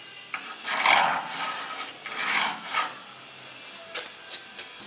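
Pencil scratching along car sheet metal while marking a repair on a Peugeot 504 pickup chassis rail: several short, close scraping strokes in quick bursts, with small taps between them and no talk.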